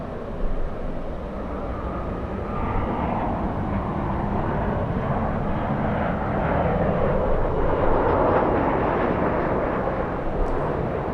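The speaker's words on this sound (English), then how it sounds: "Good looking plane, good sounding takeoff." A United 757 with Rolls-Royce engines takes off at Los Angeles International Airport, a broad, steady jet roar that holds for over ten seconds and swells slightly as it climbs, heard alone at moderate distance.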